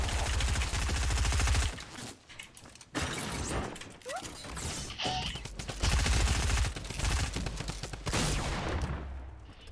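Rapid bursts of video game gunfire rattle loudly in dense, sustained volleys, breaking off into brief gaps before resuming in heavy sprays.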